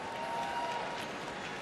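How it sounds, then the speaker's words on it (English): An indoor dog show crowd applauds and cheers during Terrier Group judging, a fairly faint, distant wash of clapping that holds steady without voices up front. "you're going to hear the crowd cheer for"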